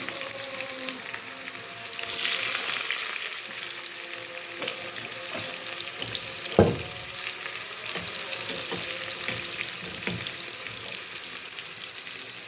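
Shallots, green chillies and curry leaves frying in oil for a brinjal milk curry, a steady close sizzle with occasional stirring scrapes and one sharp knock of a utensil on the pan midway.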